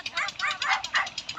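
Dogs barking and yipping in a rapid, repeated series, fairly close and loud, with voices talking over them.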